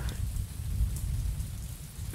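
Steady rain pours in the Mon Bazou video game, a dense continuous hiss with low rumbling that never lets up, loud and alone with no voices.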